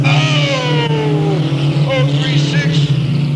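Race cars on the dirt oval of Delta Speedway in 2000 roar back to speed on a restart, their engine notes climbing loudly and continuously while an announcer talks over the track noise.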